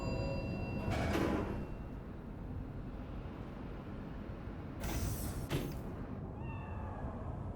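A cat meows in the video game Cyberpunk 2077, faint and brief, over a steady low ambient hum with mechanical whooshes.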